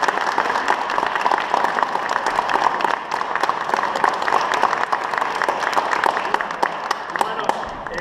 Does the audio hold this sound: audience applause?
yes